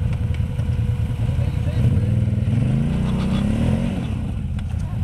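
An off-road vehicle engine on a trail rumbles loudly, then its pitch rises as it revs in the middle before settling, with a voice speaking over it.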